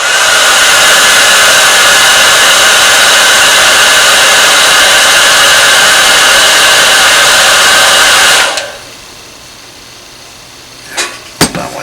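A heat gun roars loudly and continuously while heating a part of an old H&R .32 caliber double-action revolver, then cuts off abruptly, leaving quiet room tone and a few small clicks and knocks.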